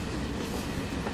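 Train rolling along rails in the Final Fantasy VII Remake video game, a steady dense rumble with faint clattering from the wheels, continuous and close throughout.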